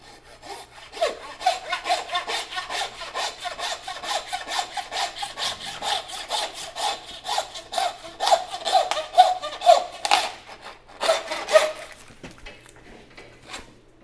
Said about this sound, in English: We just grab our handsaw.